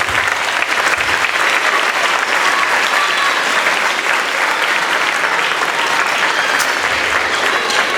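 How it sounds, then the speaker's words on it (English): Sustained, loud applause from an audience at an elementary school spring band concert, steady clapping filling all eight seconds without a break. "So we give a round of applause for our classroom teachers"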